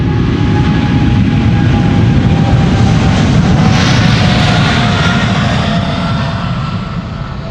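A jet airliner departs Amsterdam Schiphol Airport with a loud, close, steady engine roar that holds for several seconds and then eases slightly as it pulls away.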